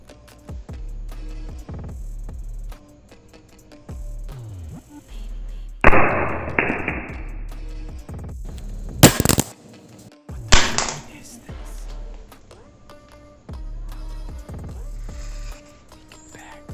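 A Realme 7 smartphone is dropped display side down onto a hard surface in a durability test, with the selfie camera recording. One loud sharp clatter stands out, followed by a second impact, over steady background music.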